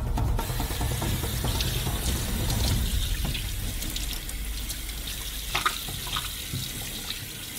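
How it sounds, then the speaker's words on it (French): Tap water runs steadily into a kitchen sink while a sturgeon head is rinsed clean, a continuous close-up rushing splash with small shifts in flow and no talking. "on va mettre la tête dans l'évier. Et on lui donne un bon coup d'eau pour qu'elle soit parfaitement propre."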